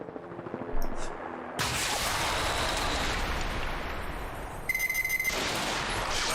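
Sustained automatic gunfire from shooting in the video game Alpha Protocol, a dense loud burst that starts abruptly after a quiet moment and rattles on continuously, with a sharper ringing volley near the end.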